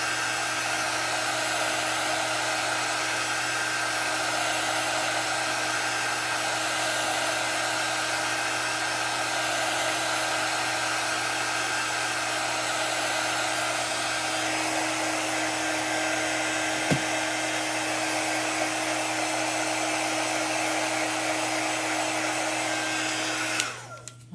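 A handheld dryer blows in a loud, continuous whine, drying chalk paste on a Chalk Couture stencil for a Christmas Noel craft. It runs unbroken for over twenty seconds and then clicks off at the end.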